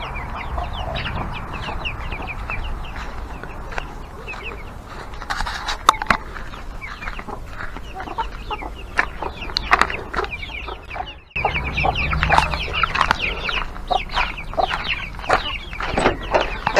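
Chickens cluck continuously at feeding time, a busy chorus of short, overlapping calls from several birds nearby, with occasional sharper squawks and louder bursts toward the end.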